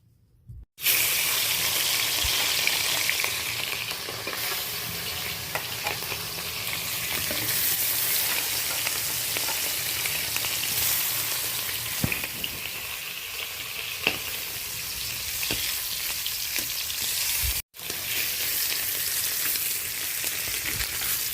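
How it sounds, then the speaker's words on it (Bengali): Catla fish pieces fry in oil in a wok, giving a loud, steady sizzle with sharp crackles throughout, briefly cut off near the end, with no talking. "তেল দিলাম, মাছগুলো ভেজে নেব।"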